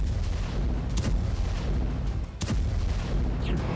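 Artillery fire near the Russia-Ukraine border, heard as loud, rumbling booms over a constant roar of noise, with two sharper blasts standing out from the din.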